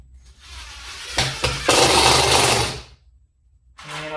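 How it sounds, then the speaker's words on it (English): Power driver sinking 1.25-inch screws into a 2x4 wood base for a bookshelf, a couple of short whirring bursts then a longer loud drive of about a second and a half, close up with no speech. "So for screwing in this base 2x4 piece, I'm using a"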